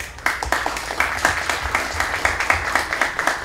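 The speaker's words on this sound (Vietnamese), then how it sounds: "Chúng tôi xin quý vị một tràng pháo tay cho tất cả những người có mặt ngày hôm nay" An audience at a fundraising party claps together in a rhythmic, evenly pulsing round of applause, loud and close, building from a brief lull into sustained clapping.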